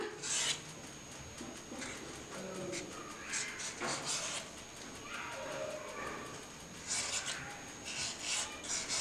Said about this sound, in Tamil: இப்போ மாங்காயோட தோலை சீவிக்கலாம்